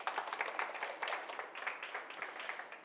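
Applause from an audience at a women's breakaway session, moderate and steady with dense overlapping claps throughout, somewhat distant.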